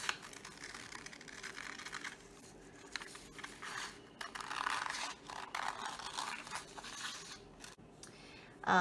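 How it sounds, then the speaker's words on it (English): Scissors snip through paper to cut out lotus flower templates, close and fairly quiet, with a steady run of crisp cutting strokes and paper rustling throughout. "So now we're just going to cut these templates out."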